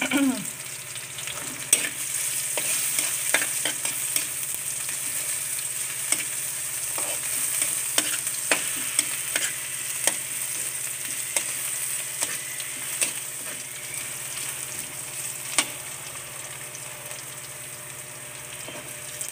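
Taro, ginger and garlic fry in a very hot pan, giving a steady bright sizzle with repeated clicks and scrapes of stirring, close and continuous with no voices.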